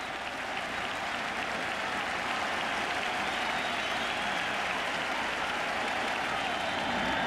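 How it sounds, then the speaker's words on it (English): Baseball stadium crowd at Fenway Park during a 2003 ALCS playoff game between the Yankees and Red Sox, a steady roar of cheering and applause that holds loud and dense without a break. "And this crowd hoping, pleading, begging Wakefield to get through a scoreless first."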